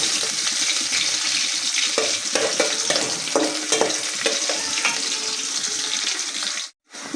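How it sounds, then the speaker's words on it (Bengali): Onion and dried fish (shutki) frying in a pan, a loud bubbling sizzle with irregular stirring scrapes close by, cut off by a short silent gap near the end. "এখানে পেঁয়াজ আর শুটকি এগুলো আমি ভেজে নিতেছি"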